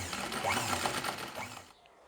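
A sewing machine stitches piping onto a kurti neckline, giving a short fast whirring run of needle strokes that stops abruptly near the end, close and alone.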